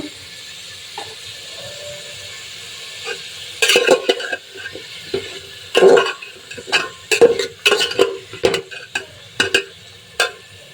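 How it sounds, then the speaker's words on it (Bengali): Chopped hog plums are added to a pan and stirred while cooking for a vegetable khichuri, with a faint steady sizzle under repeated close scraping strokes of a spatula. "তারপরে এটার ভিতরে যে আমরাগুলো কুচি কুচি করে কেটে রাখছিলাম এই আমরাগুলোকে দিয়ে দিব"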